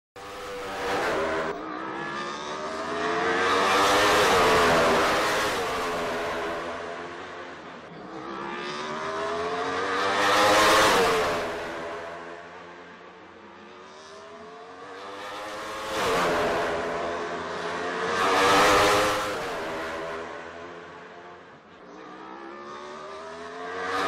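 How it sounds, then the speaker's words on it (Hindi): Sports race cars speed around an Indian Racing League street circuit at 250 to 300 km/h, engines roaring loudly as cars repeatedly pass close by in waves, with rising and falling revs and no voices. "स्पोर्ट्स कारों ने 250 से 300 किलोमीटर की रफ्तार से दौड़ लगाई"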